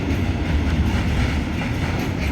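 A freight train rolls toward Ljubljana's main station, slowing on the approach, its steady low rumble and wheel noise filling the scene continuously and fairly close, with no voices.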